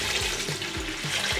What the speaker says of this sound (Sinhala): ඊට පස්සේ මම වතුර ටිකක් එකතු කරනවා.